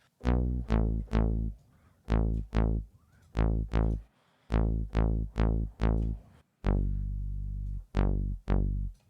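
A buzzy synth bass plays short punchy notes in a syncopated rhythm, thick and slightly chorused from five or six unison voices detuned about 10%, loud and alone.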